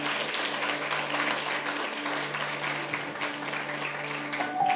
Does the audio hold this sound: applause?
yes